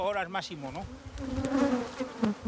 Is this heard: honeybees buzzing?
yes